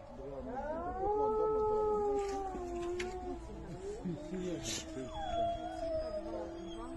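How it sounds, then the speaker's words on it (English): Long, wavering wolf howls rise and fall over several seconds, several voices overlapping and sliding in pitch, with a steady air-raid siren tone running beneath them. "wolves like to howl when the sirens are on"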